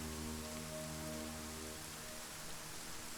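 Rain patters steadily in a video game, a soft continuous hiss of falling drops with a faint low hum underneath, with no voices.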